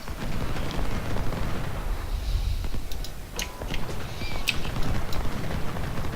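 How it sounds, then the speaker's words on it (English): Cannon fire on a strategy game battlefield comes as deep rolling booms and rumbling artillery, with sharper cracking shots scattered through it, loud and continuous without pause. "I'd like to have my cannons do a little more damage now, just to really push him back."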